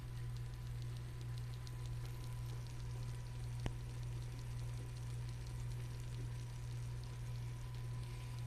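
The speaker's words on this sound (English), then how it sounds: "Can you hear the bubbles?" A broccoli and blue cheese casserole fresh from the oven bubbles and pops quietly, a faint continuous crackle over a steady low hum, with no talking.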